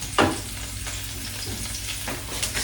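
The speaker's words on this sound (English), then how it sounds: "Quickly saute. Really, I should say sweat. Sweat our shallots here." Shallots sweating in about a tablespoon of oil in a pan, giving a steady soft sizzle with a few brief stirring scrapes, close and moderately quiet, with no talking.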